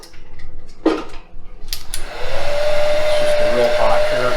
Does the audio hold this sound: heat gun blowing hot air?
yes